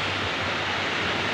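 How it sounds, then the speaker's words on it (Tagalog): Big ocean waves breaking over a shallow shore make a steady, dense wash of surf noise that fills the whole moment without pause or distinct crashes. "Kahit na malalaking alon, sinusulubong talaga nila."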